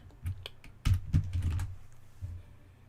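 Someone types on a computer keyboard set to US layout, a quick burst of clustered key clacks and thumps up close, trailing off into a few scattered taps, with no talking.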